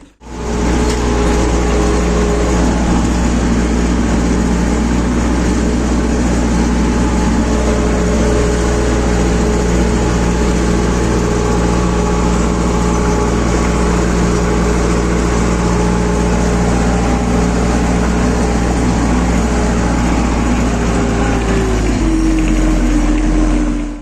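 Tractor engine running steadily while cultivating a field for sowing Sudan grass, a loud continuous mid-pitched drone that holds for about twenty seconds, then shifts lower near the end.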